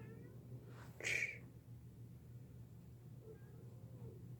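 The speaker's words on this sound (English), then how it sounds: "My cat is crying out there, poor baby." A cat meows outdoors, heard from indoors near a window: one clear, fairly loud cry early on, then a fainter, more distant call, over a steady low hum.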